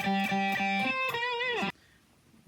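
Electric guitar plays notes from a guitar solo from Freaky Friday, a few distinct picked notes followed by a bending, sliding note that cuts off abruptly, leaving near silence.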